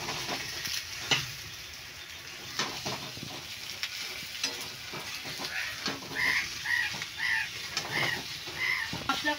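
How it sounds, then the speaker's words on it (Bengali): Fried potato and pointed gourd tipped into a hot pan for a shrimp dish crackle and sizzle with scraping stirs and clicks of a utensil. Faint chirping sounds repeat in the background. "এবার আমি ভেজে রাখা আলু পটলটা দিয়ে দিলাম"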